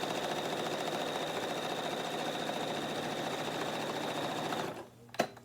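A sewing machine runs steadily as it stitches the side seam of a tote bag, a continuous close mechanical whir that stops abruptly near the end, followed by a single soft clunk.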